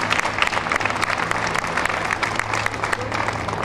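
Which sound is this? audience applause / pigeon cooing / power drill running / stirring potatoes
audience applause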